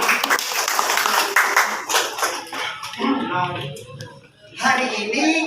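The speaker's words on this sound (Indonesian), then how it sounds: "Oke, beri tepuk tangan untuk kalian semua." A classroom of students claps together in a burst of dense, close applause that thins into scattered claps, with voices talking over the last part.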